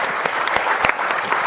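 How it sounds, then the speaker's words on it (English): Steady, loud applause from a forum audience in the UAE, with a few sharper individual claps standing out within the continuous patter. "Give them a massive round of applause."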